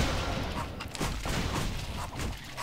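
Cannon fire in the action role-playing video game Torchlight 2, a dense continuous barrage of booming shots and crackling blasts packed together with no gaps, loud throughout amid busy game effects.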